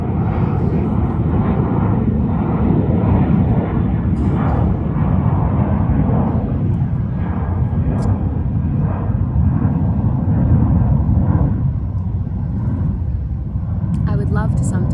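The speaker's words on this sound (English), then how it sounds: "excuse the plane" An airplane passing overhead outdoors, a loud sustained rumbling drone that swells and fades slightly across the whole stretch, heard beneath someone talking.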